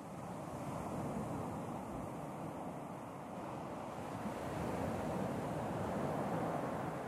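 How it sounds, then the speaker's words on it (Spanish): Open-sea waves in The Forest survival game, a steady faint wash of surf and wind noise with no break, heard alone while sailing in the middle of the sea. "Aquí estoy a la mitad del mar"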